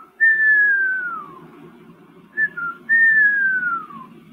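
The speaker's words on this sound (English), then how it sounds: "I knew that was a whippoorwill" A whippoorwill on an Indiana farm at dusk in late spring gives two clear, slurred whistled phrases, each sliding downward, with a short broken note between them over a faint low background hum.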